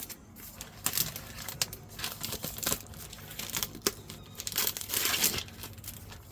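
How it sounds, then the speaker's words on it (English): Plastic wrapper being slashed with a Leatherman and peeled off a lasagne pack, a close run of crinkling, tearing and crackling bursts in irregular bunches, with no voices. "I'm going to slash the plastic and peel it off"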